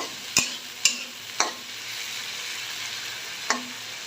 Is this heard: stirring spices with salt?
yes